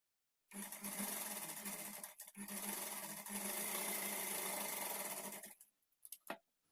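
Sewing machine stitching the back neck of a designer blouse, a continuous fast whirring run broken by one brief pause, then stopping, followed by a few faint clicks and taps.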